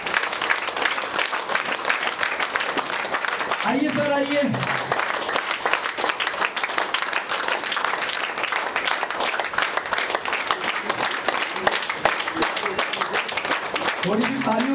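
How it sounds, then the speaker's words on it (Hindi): Audience applause welcoming a chief guest, Dr. JK Gautam, at a cancer prevention session: sustained, dense clapping from a crowd fills the whole stretch, with someone briefly speaking over it near the start and end. "हमारे डॉक्टर JK गौतम जी के लिए तालियों की गड़गड़ाहट कम नहीं होनी चाहिए।"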